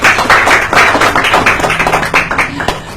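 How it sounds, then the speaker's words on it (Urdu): Applause from an audience at a Pakistan Defense Day gathering, a steady patter of many hands clapping close by, sustained for a few seconds without voices over it. "ان کے لیے بہت سی تالیاں"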